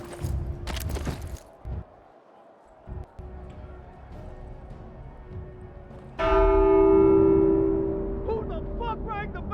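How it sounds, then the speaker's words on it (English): A church bell in The Walking Dead: Saints & Sinners game rings out loud and sustained after muffled ambience and brief noises, ringing steadily for several seconds. "Who the fuck rang the bell?"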